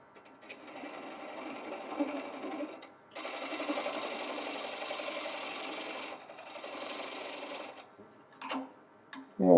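A wood lathe spins a square, multi-axis bowl blank in a woodturning demo, a steady whirring drone running in long stretches, dropping out between runs, with brief cutting scrapes and a sharp knock near the end.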